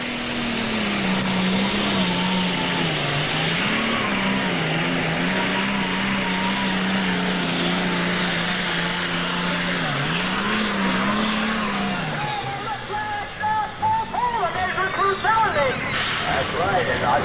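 The Indiana Rascal 7240, a 2,500-horsepower tractor with three chargers, roars at full pull at a 1995 NTPA Fort Recovery pulling event. The steady loud engine howl dips and swells, then breaks into sputtering bursts near the end.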